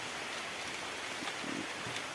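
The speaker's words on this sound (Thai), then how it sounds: "ฝนก็ตกนะครับปอกแป๊กปอกแป๊ก" Rain falls steadily on a bamboo shoot plot, a soft, even hiss with faint scattered drip taps throughout.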